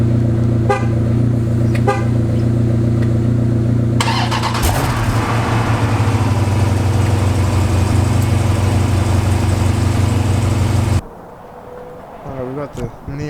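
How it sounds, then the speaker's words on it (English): A Jeep SRT8 fitted with an aFe aftermarket exhaust starts and idles with a deep, steady rumble, a loud blip of revs partway through, then the engine cuts off abruptly into quieter street ambience with faint voices. "let's get another exhaust sound from the Jeep."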